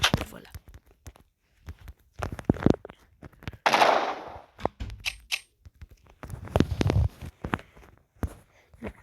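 Sharp bursts of gunfire from a Minecraft weapon mod firing two rounds at a time, loud close shots separated by gaps, mixed with light clicks and soft game sounds.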